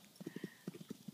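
Quick, close hoofbeats clip-clop on a hard surface, a brief uneven run of knocks in two bursts with a short pause between.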